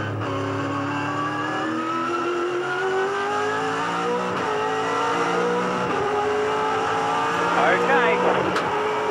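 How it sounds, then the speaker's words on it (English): Onboard a 2007 V8 Supercar at the Queensland 300, the racing V8 engine drones and climbs through gears with rising pitch sweeps and brief lifts, loud and close, with commentary voices over it. "Let's have a ride with Craig Lowndes."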